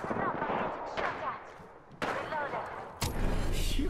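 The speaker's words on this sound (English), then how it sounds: "Getting shot at." Gunfire rattles in the Apex Legends battle royale video game, sharp shots cracking out in bursts about a second apart over steady game noise.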